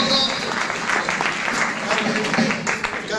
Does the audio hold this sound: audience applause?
yes